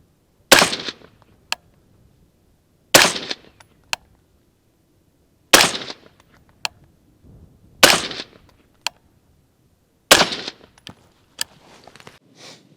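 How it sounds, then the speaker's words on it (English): Rifle shots fired with Winchester green tip M855 5.56 ammunition, five loud sharp cracks spaced a couple of seconds apart, each trailed by a short echo and faint clicks in an otherwise quiet setting. "next up we're going to be doing the Winchester green tip M855"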